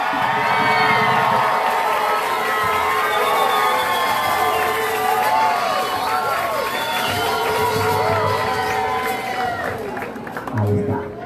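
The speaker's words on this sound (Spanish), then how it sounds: "¡Fuerte sea el aplauso para los amigos de Honduras!" Crowd cheering at a school solo music contest for clarinet players from Honduras, loud shouts, whoops and excited voices with some clapping, the noisy crowd fading slightly toward the end.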